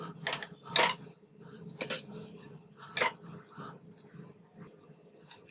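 Boiled, drained rice is spooned into a mutton kabsa pot, giving a series of light metallic scrapes and clinks from a utensil against the pot, spaced irregularly and fairly quiet, with soft rustling between them.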